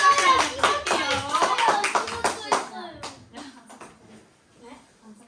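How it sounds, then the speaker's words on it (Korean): Children at a church kids' gathering clap together in a quick, uneven burst mixed with excited voices, then the claps thin out and fade to scattered taps. "우리 박수 해줄까요?"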